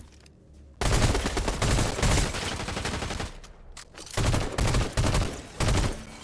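Gunfire in the Fortnite video game, loud bursts of rapid automatic shots coming close together and then in several shorter volleys.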